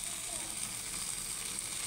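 Duck meat fries in a pan at home, a steady soft sizzle and hiss that stays even throughout, heard close and alone.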